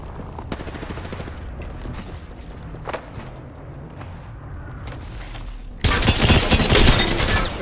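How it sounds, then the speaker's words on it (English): Sustained gunfire from the video game Apex Legends, with scattered shots and clatter at a steady level that jumps into a much louder, dense burst of automatic fire for the last couple of seconds. "Getting shot at."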